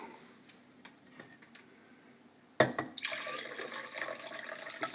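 Water poured into a pot to make brine for marinated herring: quiet kitchen clinks first, then a sudden loud gush of running liquid that continues steadily to the end.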